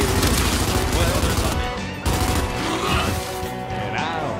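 Sniper gunfire in the Area 51 video game, heard as dense, continuous shots with game effects, sharp bursts around the one-second and two-second marks, with a voice talking over it.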